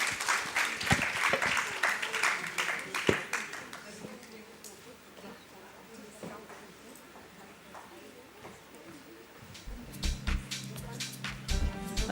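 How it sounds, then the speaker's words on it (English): An audience at an airport art programme launch in Bengaluru claps for the panelists. The scattered applause rises and then thins into sparse claps during the middle, with people speaking at the start and a voice returning at the end. "A big round of applause once again for our panelists and our moderator."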